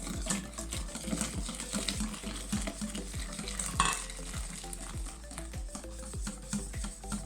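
Repeated scraping strokes of a utensil stirring chocolate flan mixture in a saucepan, a regular rhythmic swish with a soft sizzling, bubbling background.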